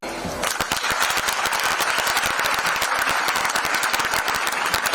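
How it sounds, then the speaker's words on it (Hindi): Sustained applause for children at an annual Noble Foundation event, steady and crisp with many hands clapping fast, mid-distance, holding at an even level throughout with no talk over it. "बच्चे लिए तालियां।"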